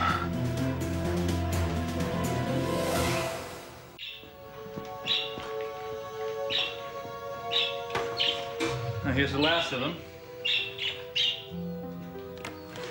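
Birds chirp and squawk in quick, uneven bursts after a loud tonal musical passage, with someone speaking briefly over the chatter.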